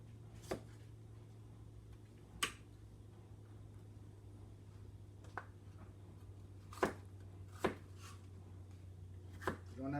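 A kitchen knife slices ingredients thinly for Guyanese chow mein, giving a few sparse, sharp cuts against a board spaced seconds apart over a steady low hum, with no talking.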